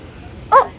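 A single short, close yip from a dog confronting a man flying a kite outdoors, a brief sharp bark over quiet background.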